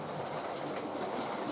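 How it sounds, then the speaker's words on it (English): A modified Bachmann Cravens DMU runs past on a model railway layout, giving a steady close rolling rumble with faint wheel clicks throughout, no voices. "A modified Bachmann Cravens unit enters from the south."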